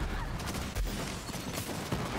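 Gunfire in the Borderlands 3 shooter game during a fight in Lectra City, a dense chaotic barrage of overlapping shots and impacts filling the whole moment, loud and continuous.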